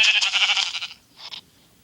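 Sheep from Minecraft Pocket Edition bleat loudly at close range, with one long wavering call followed by a shorter one after a brief pause.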